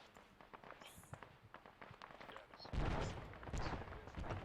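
Scattered gunshots from a military video game crack through the clip, growing denser and louder as a heavier burst of fire joins in partway through.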